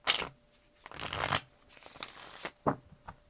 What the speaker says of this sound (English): I said it while I was shuffling